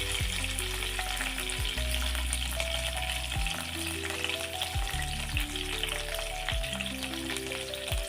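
Spices such as cumin, curry leaves and dried red chillies crackling in hot oil for a tomato dal tempering, a steady dense sizzle with a repeating low rhythmic thump, no voices.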